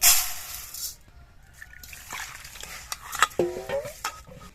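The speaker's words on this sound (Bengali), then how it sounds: "এখানে আমি 250 গ্রাম গোবিন্দভোগ চাল নিয়েছি, ধুয়ে নেব।" Gobindobhog rice, 250 grams, swished and rinsed in water in a pot: a burst of sloshing water, then scattered light clinks and grainy stirring scrapes close by, with no talking.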